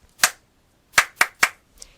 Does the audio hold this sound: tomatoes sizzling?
no